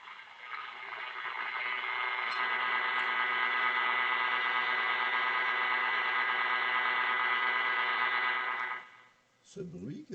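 Steady, loud hiss and hum from the valves of an old RCA Victor 641 tube radio, a dense static-like wash holding for about nine seconds before cutting off, followed by a brief rustle.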